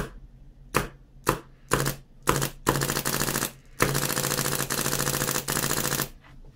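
Rapid gunfire from a firearm with a long-stroke piston, several single shots in quick succession, then two long sustained automatic bursts, loud and close, with no talk.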